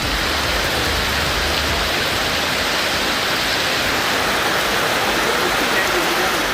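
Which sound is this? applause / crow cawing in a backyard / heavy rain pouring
heavy rain pouring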